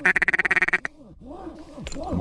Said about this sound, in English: There's 20 ducks out there.